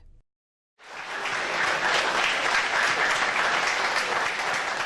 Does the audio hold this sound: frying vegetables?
no